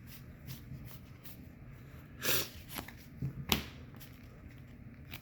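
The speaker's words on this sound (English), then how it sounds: "So I shuffle, and now I shuffle." A deck of Yu-Gi-Oh cards is shuffled by hand at close range, with soft repeated riffles and flicks that rise into a couple of louder bursts of card handling.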